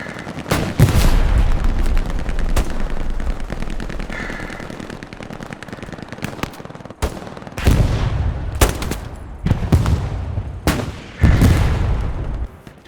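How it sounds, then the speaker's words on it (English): Suppressing gunfire in the World War II shooter game Hell Let Loose: loud, rapid bursts of automatic fire crackle close by in repeated volleys, separated by short quieter gaps. "Can't see anything, but I can definitely put some suppressing down."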